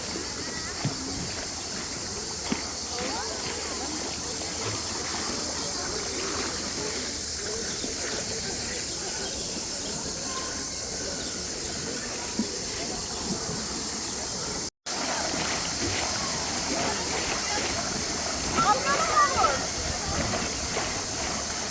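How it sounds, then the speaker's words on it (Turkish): Waves churn in a hotel wave pool in Kyrenia, Cyprus, making a continuous washing, splashing rush while people talk over it. "Havuzu görüyor musunuz? Nasıl dalga?"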